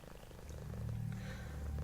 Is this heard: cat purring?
yes